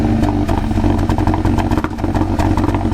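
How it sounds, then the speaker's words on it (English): A Kia Ceed GT engine misfires on a cold start, running loud and close with a rough, uneven chugging and clattering beat that never settles into a smooth idle. "it's got a really bad misfire on cold start"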